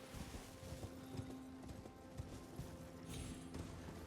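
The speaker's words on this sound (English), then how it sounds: "let's just go ahead and hop on our horse and head north-ish." Horse galloping in Elden Ring: a steady run of hoof clip-clops, quiet and fairly even in rhythm, with a faint whinny-like tone and soft game ambience underneath.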